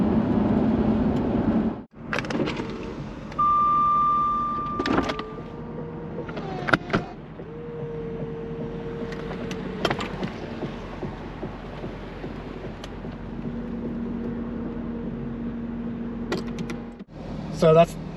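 A Jaguar XKR X100 convertible retracts its power roof, giving a series of electric motor whines and hums broken by mechanical clunks and latch clicks, up close with faint background rustling.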